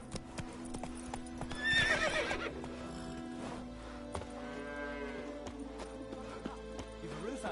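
Roach the horse in The Witcher 3 whinnies and clops along, a bright neigh rising over steady hoofbeats and faint ambient music, with a voice talking nearby.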